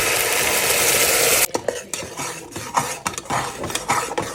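Onion and tomato paste hitting hot oil bursts into a loud hiss, then is stirred in a pan with repeated scraping, clinking spoon strokes and softer sizzling underneath.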